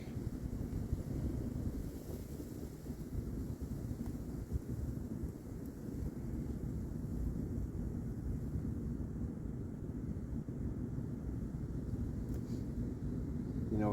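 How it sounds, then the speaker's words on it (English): Low, rumbling wind noise buffets the microphone steadily for the whole stretch, a continuous muffled roar without clear speech. "It's kind of windy out."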